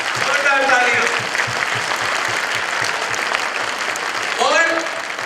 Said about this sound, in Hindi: जोरदार तालियां बजाते हुए भगवान